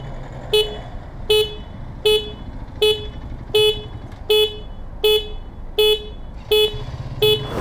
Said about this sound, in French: je klaxonne, il me voit pas